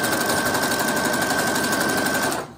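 A sewing machine stitching fabric for a couch pillow runs in a steady, rapid, loud whirring buzz for about two seconds, then stops abruptly.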